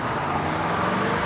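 Steady, loud engine drone of a 1987 Chevrolet Camaro IROCZ muscle car, a continuous road-and-motor roar with no break and no voices.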